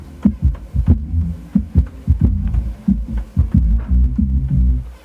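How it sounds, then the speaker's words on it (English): A bass line sampled from a vinyl record plays alone: deep, punchy low notes in a steady looping groove, loud and close, with short thumping attacks and a slight hum beneath. "just the bass line as it was on the record"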